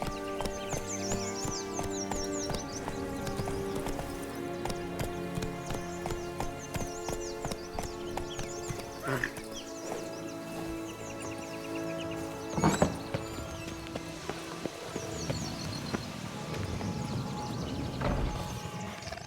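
Roach, Geralt's horse in The Witcher 3 video game, gallops in a steady rhythmic clip-clop of hooves with a brief whinny, close and continuous under game music and ambient sounds, with no talking.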